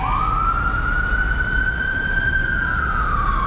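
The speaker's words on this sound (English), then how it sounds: "ambulance bustling by" A wailing ambulance siren sweeps slowly up and down over heavy, constant traffic noise on Fifth Avenue near 42nd Street in New York City.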